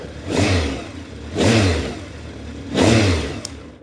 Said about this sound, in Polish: Honda odpala na dotyk. Pracuje idealnie.